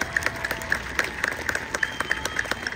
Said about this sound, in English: Let's give another round of applause for our senior band students.